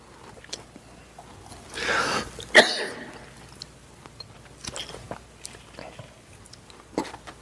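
A single muffled cough bursts out near the start, followed by quiet shuffling and small clicks in a hushed room.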